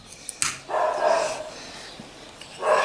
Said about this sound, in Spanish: cada vez que pasa alguien por delante de la puerta de la casa, ya está ladrando